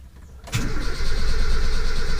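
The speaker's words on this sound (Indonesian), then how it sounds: "Jadi kita start tanpa menghidupkan mesin" A Toyota Kijang engine being cranked with the starter during an oil change. After a brief quiet moment, a loud, steady mechanical churn begins close by and continues to the end, with no talking.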